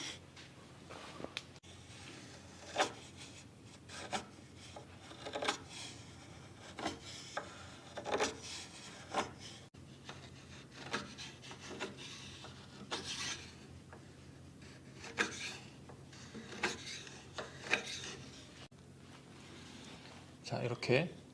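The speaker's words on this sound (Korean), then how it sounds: "이렇게 락커 면과 평행해지는 칼선을 그렸어요" Marking knife drawn along a wooden rocking chair leg, scribing a line parallel to the rocker face, giving a soft, close rasping scrape in repeated short strokes over a faint room hiss.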